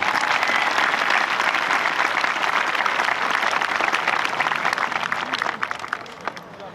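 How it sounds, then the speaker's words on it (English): Audience applause at a 2015 NBHS high school graduation ceremony, a dense, sustained wash of clapping that thins out and fades near the end. "One more round of applause for our award-winning group and Mrs. Turner"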